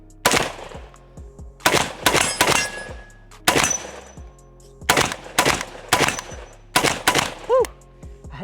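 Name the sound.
bullets hitting swinging steel targets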